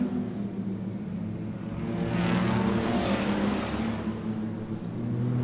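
World 240s race cars racing on a track at night, a steady engine roar that swells as cars pass and then eases, somewhat distant and heard alone.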